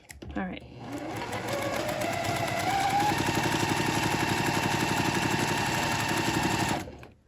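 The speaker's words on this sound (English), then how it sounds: "We're going to sew using our 1/4 inch seam." A sewing machine stitches quilt blocks with a 1/4 inch seam in one continuous, fast, even run of close mechanical whirring and chattering that lasts several seconds before stopping abruptly.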